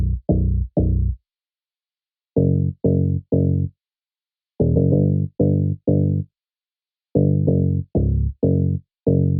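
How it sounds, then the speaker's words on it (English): DS Bass 2 synth bass preset from Harmless played solo in an Afrobeat groove: clipped, buzzy bass notes in short bursts of three or four, separated by pauses, loud and dry with no talking. "It is the DS Bass 2 from Harmless,"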